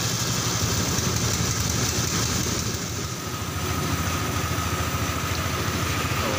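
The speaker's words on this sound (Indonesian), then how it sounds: "motornya masih bisa hidup" A Honda Vario Techno 125 scooter engine idles steadily up close, its motor leaking oil and suffering a sudden loss of spark-plug ignition, with a continuous mechanical hum and no talking.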